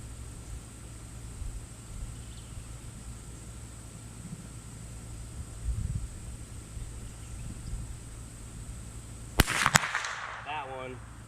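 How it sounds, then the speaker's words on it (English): A gunshot in a backyard, one sharp loud report near the end of an otherwise quiet stretch with low background hum, followed by a brief ringing trail. "I'm just gonna hit the trigger and hope I don't jerk it too bad"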